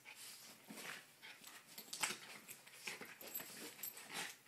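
Two dogs play-fight on a brown couch, giving soft growls, whimpers and panting yips in short, irregular bursts. The sounds are quiet and close, with no talking.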